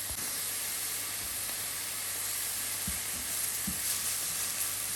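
Lardons sizzle and fry in a pan for a carbonara, giving a steady, even hiss throughout, with a couple of soft knocks partway through.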